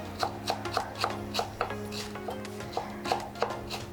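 A knife chops fresh cilantro on a cutting board in a steady series of close, crisp thuds, roughly three per second, with no talking over it.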